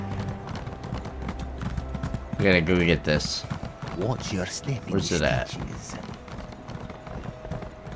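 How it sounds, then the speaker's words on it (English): Horse hooves clip-clop steadily in The Elder Scrolls Online, a moderately loud rhythmic plodding that carries on beneath bursts of conversational speech throughout. "Let's get off this horse."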